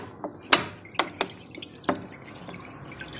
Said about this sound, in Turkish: Öncelikle sütü süzeceğim.